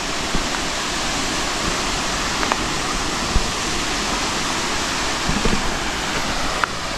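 Waterfall in Biliran Province pours in a dense, steady hiss and roar, close and loud, unbroken for the whole stretch with no voices.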